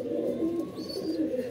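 A pigeon that came back after a month away coos among others nearby, the soft throaty calls layered and continuous, with a faint higher chirp briefly above them.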